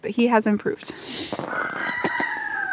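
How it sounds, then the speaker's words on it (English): A homestead rooster crows with a long, strained, uneven call that rises and holds near the microphone, following a man's brief speech. "What the heck is that rooster doing? He's yelling."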